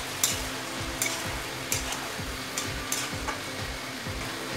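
Potatoes and onion greens are stirred in a pan after a light sprinkle of water, producing a soft frying sizzle broken by regular, rhythmic spatula scrapes roughly every second, close and fairly quiet.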